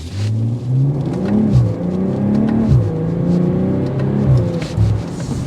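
A 2024 BMW M340 accelerating hard from a launch, its engine note rising steadily in pitch through a continuous loud, close roar with brief dips at gear changes.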